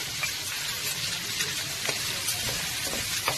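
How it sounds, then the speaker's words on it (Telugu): Onion and green chillies frying in oil in a pan for a cabbage carrot stir-fry, a steady loud sizzle with faint stirring scrapes and no voices. "ఆనియన్, పచ్చిమిర్చి, ఆనియన్ వేగుతా ఉంది"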